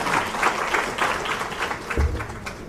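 Enthusiastic crowd applause for India's Education Minister at an official government ceremony, a continuous dense patter of many hands clapping with a brief low thump near the end.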